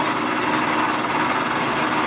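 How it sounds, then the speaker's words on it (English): Machining chatter from cutting a crankshaft on a flywheel truing tool, a continuous, loud, buzzing whine with a rough vibrating edge that holds steady without pause. "We're not feeding them hard enough yet. There's that chatter."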